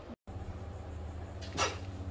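A single sharp sneeze bursts out near the end, loud and close in a budget motel room near Myrtle Beach, standing out over a steady low background hum.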